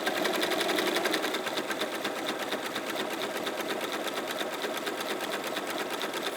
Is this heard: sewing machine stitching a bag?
yes